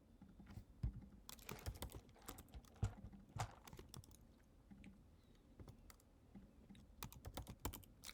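Typing on a computer keyboard while entering data for a statistics analysis, heard as irregular bursts of close key clicks with short pauses between runs, no talking.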